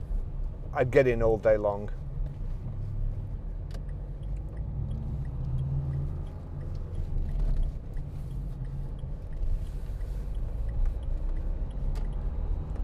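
A 1968 Ford Mustang engine runs with a low, steady rumble throughout, while someone speaks briefly near the start over it.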